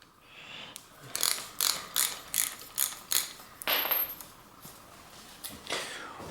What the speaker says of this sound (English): I'm going to use a 6-point socket to remove these. And so I can get my ratchet wrench here.